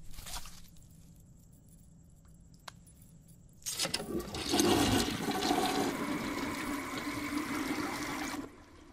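A bathroom toilet flushes with a loud rushing surge of water that swells, churns for several seconds and cuts off, preceded by a quieter interval with a brief click.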